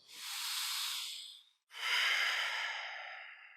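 A deep breath during yoga practice: a long airy inhale lasting over a second, a brief pause, then a fuller, slightly louder exhale that trails off, close to the microphone with no talking.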